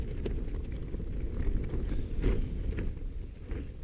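Wind gusts buffet the microphone on the open fell of Blencathra during a wild camp, a steady rumbling roar that swells and eases in uneven surges with no voices.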